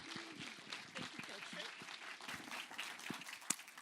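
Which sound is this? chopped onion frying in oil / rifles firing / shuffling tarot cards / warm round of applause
warm round of applause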